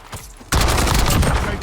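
Rapid automatic gunfire in the Warzone battle royale game erupts loud and close after a half-second lull, a sustained burst of shots with a faint voice beneath.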